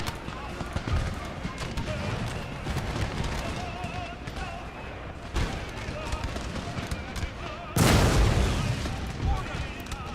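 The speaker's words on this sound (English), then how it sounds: "Cannons, fire on their cannons from the hill." Cannons fire in the strategy game Empire: Total War with scattered booms over a busy battlefield din, ending in one loud close blast near the end, with voices speaking throughout.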